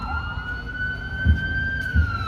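Ambulance siren outside in a residential neighbourhood, a sustained slowly rising wail with a couple of dull low thumps underneath.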